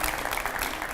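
Studio audience clapping during a live Hindi television debate, a brief burst of dense applause heard alone.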